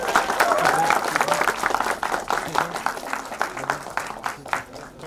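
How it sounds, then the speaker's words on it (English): A crowd applauds the female pilots at a cinema event, clapping strongly at first and thinning into scattered claps, with some voices faintly mixed in. "a big round of applause for them"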